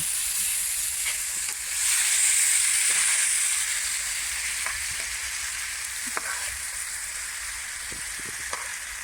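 Garlic fries in a pan over an open hearth, giving a steady bright sizzle and hiss with occasional stirring clicks and a brief louder hiss burst near the start, no voices.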